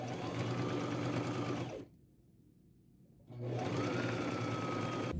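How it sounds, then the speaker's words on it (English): A sewing machine running a straight stitch on fabric, a steady close whirring hum that stops for about a second and a half, then resumes at the same pace. "do a 1/2 inch seam allowance with a straight stitch right here"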